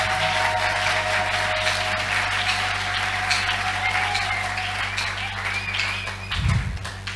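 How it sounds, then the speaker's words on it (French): A church congregation at Sion Tabernacle in Gemena applauds loudly and continuously, a dense wash of clapping that holds steady throughout, with a faint voice underneath and a brief low thump near the end. "Acclamons très fort."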